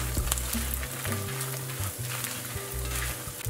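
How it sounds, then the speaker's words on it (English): Fried eggplant sizzling steadily in a hot pan with aromatics, tossed and stirred with intermittent clanks and scrapes for a vegan Hakka spicy pepper eggplant dish. "we're going to go in with that fried eggplant"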